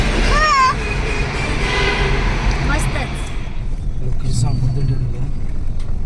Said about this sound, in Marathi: इथनात ना काय ट्रॅफिक आहे